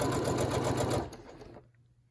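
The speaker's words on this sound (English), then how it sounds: "we only need to do a couple stitches" A sewing machine stitches a reusable N95-style fabric mask in a short, fast, steady mechanical whir that runs for about a second, then winds down and stops. It is heard close up with no voices.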